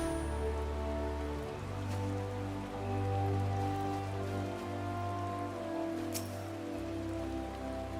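Steady rain falling in the Final Fantasy XIV game world, a continuous even hiss of drops on surfaces with a low ambient drone beneath, moderately loud and without any talk over it.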